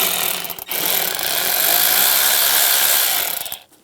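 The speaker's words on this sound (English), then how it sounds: "At the throttle body, we're going to loosen up this worm clamp," Power ratchet driving an 8mm socket to loosen a worm clamp at the throttle body of a 2015-2020 GMC Yukon XL, a loud steady buzzing whir that runs for about three seconds before stopping.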